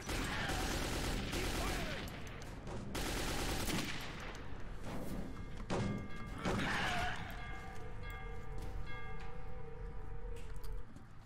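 Gunfire in the video game Metro 2033, ranger mode, with rapid bursts of automatic shots and scattered single cracks at close range, mixed with game voices and impacts over about eleven seconds.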